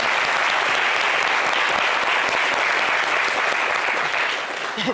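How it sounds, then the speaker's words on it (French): Sustained applause from a studio audience at a French-language TV show, dense steady clapping that holds at full strength for several seconds before easing slightly at the end. "Merci de l'applaudir"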